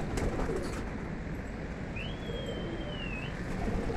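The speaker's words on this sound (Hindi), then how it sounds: "तो भाई ने उड़ा दिए, वो उड़ रहे हैं कबूतर।" Pigeons flown by a fancier in an open-air setting, with a continuous broadband rush of wing flutter and ambient noise and one faint, drawn-out bird call near the middle, no talking.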